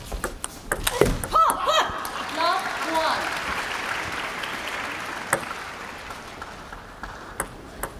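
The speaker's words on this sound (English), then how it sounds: "the Japanese fans let it go and simply applaud for Mima Ito after winning game 1 11-7" Japanese fans in a table tennis arena applaud Mima Ito after she takes game 1 11-7 in the 2018 Japan Open final, the clapping swelling mid-clip beneath commentary, with sharp ball pings cutting through near the start and end.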